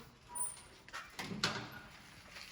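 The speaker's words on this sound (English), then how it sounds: "Little screen door that even if you have a power chair, you can push open if needed" A light screen door on an accessible campground bathroom at Atsion Recreational Area in Wharton State Forest is pushed open, giving a soft creak and a couple of brief clacks, close by and fairly quiet.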